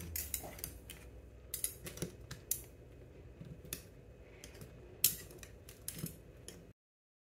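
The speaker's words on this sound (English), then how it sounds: "So I'm just going to stick a butter knife down." A butter knife pushed down inside a glass jar packed with produce and brine, giving scattered faint clinks and scrapes of metal against glass over a low background, with no talking.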